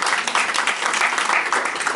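An audience claps and applauds at a lecture, a dense, steady wash of many hands throughout, loud and close.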